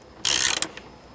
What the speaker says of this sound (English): finally we get our spanner, wrench, and just tighten them up